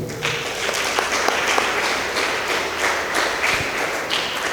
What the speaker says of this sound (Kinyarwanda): ni mu amashyi mumushimire